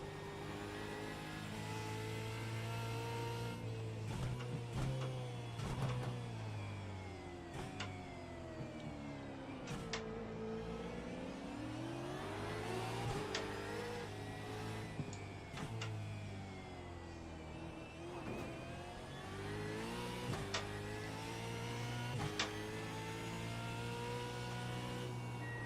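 A race car on the Adelaide street course drones through a hot lap, its engine note rising and falling with gear changes and sweeping revs, carrying steadily with no talk.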